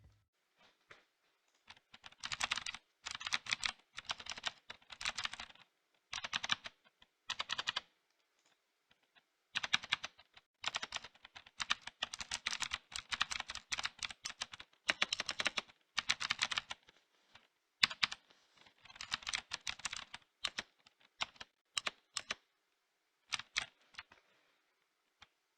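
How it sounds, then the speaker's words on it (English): Clicky mechanical keyboard switches clatter in quick, irregular bursts of typing, close and crisp, separated by short pauses, with no talking. "These switches provide a nice clicky sound and feeling."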